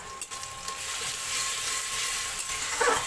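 Ground spices fry in hot oil with onion and bay leaf as the base for mutton, giving a steady, close, soft sizzling hiss with no talking.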